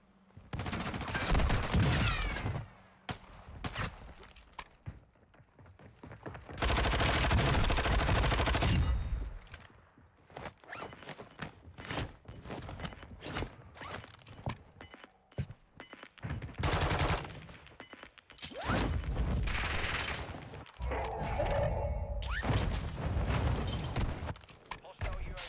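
Gunfire from a third-person shooter video game comes in loud, dense bursts of rapid automatic fire, broken by short quiet gaps, with a player's voice talking over parts of it.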